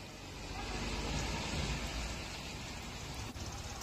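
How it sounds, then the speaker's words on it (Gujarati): Unseasonal rain falling in Gujarat, a quiet, steady hiss of rainfall on surfaces that swells slightly and then holds level, with a faint brief tick near the end. "ગુજરાતમાં કમોસમી વરસાદ પડી રહ્યો છે"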